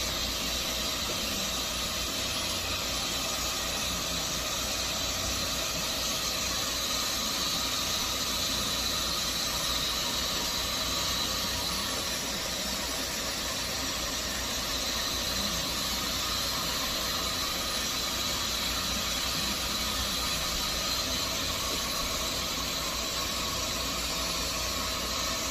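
A hairdryer blows hot air steadily onto a piece of silicone being reshaped, producing a constant, even rushing hiss that continues without a break for the whole stretch.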